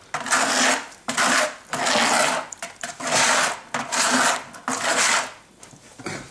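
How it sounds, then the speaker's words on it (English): A bucket trowel scrapes repeatedly around the inside wall of a plaster mixing bucket, giving loud, close rasping strokes in a steady rhythm of about six passes with brief gaps, no talking. "taking your bucket trowel, every now and then you want to scrape around your bucket."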